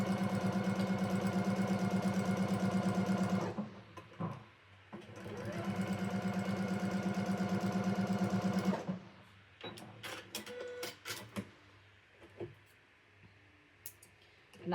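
Sewing machine running in two long, steady bursts while chain piecing quilt blocks, a close mechanical whir with a short pause between runs, followed by light clicks and handling sounds.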